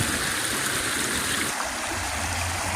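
Stream water rushing and splashing over rocks outdoors, a steady, close, broadband flow with no voices.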